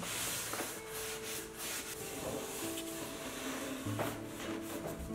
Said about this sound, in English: I am finishing the lyre with woodworker's beeswax.